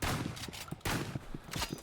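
A shotgun fires in the video game Rivals, several sharp loud blasts in quick irregular succession with short gaps between them, close and without talk over them.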